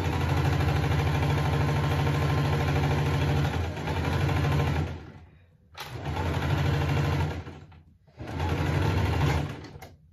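A sewing machine stitches a fabric pouch in long steady bursts, its rapid mechanical whirr running for several seconds, stopping briefly, then starting again twice, close and loud with no talking.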